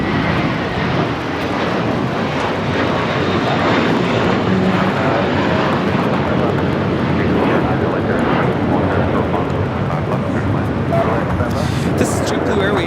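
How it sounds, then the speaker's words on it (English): A JetBlue Airbus A321 roars down the runway on takeoff at a busy airport, a loud sustained engine rumble filling the scene while people talk nearby. "This is JetBlue Airways Flight 300 taking off to Fort Lauderdale on the A321."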